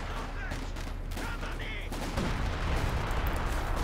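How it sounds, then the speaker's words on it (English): Artillery in a Company of Heroes 2 team battle: dense, rumbling bursts of shelling and gunfire swell over a few seconds, with distant crackling in a busy battlefield mix. "Some artillery coming in."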